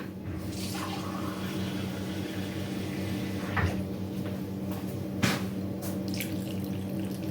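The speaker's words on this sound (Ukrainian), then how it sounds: "І водички наливаємо зразу." Water from a kitchen tap fills a cooking pot in a steady continuous stream, close and moderately loud, with a couple of cupboard or lid knocks and no talking over it.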